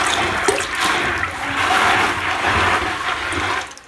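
Water sloshes and pours in a bucket as freshly picked coffee beans are rinsed outdoors in Colombia, a loud, continuous churning wash with a few splashy bursts.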